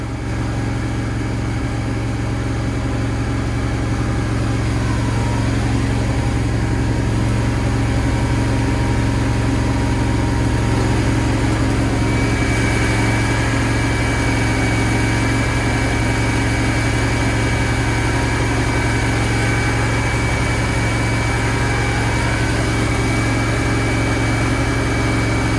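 Kohler standby generator running steadily with its enclosure walls removed, a constant loud low engine drone and hum throughout, no voices.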